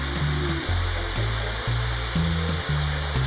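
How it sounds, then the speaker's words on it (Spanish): Water pours into a paella pan of Valencian paella just after the sofrito, a constant loud rush with a repeating low rhythmic pulse underneath. "Ahora ya le añadimos el agua"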